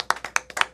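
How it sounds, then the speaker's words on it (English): A round of applause from an audience at a live music show, a short burst of about eight sharp, fairly loud claps in quick irregular succession. "Give them a round of applause anyway, ladies and gentlemen."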